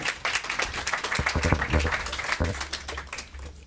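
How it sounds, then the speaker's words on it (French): Audience applause at a rabbis' debate event, a dense, steady clatter of many hands clapping at moderate volume, with a low hum underneath. "Les applaudissements, c'était pour toi, pas pour moi"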